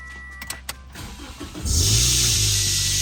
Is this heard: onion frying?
no